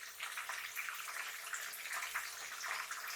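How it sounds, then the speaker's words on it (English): Tamarind water poured into a pan of sugar and chili while cooking sambal for nasi lemak, a steady soft splashing trickle that runs unbroken, close and fairly quiet. "I add in the tamarind water, just a bit,"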